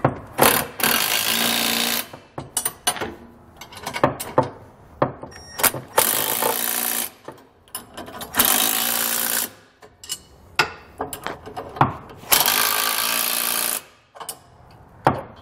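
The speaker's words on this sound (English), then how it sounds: "So I'm going to grab 3/4 inch wrench and socket and snug those down." A 3/4 inch wrench and socket snug down fifth wheel underbed kit bolts on a 2021 Ford F-250, with three long bursts of steady tool whirring broken by sharp metallic clicks, clanks and ratcheting between them, close and fairly loud.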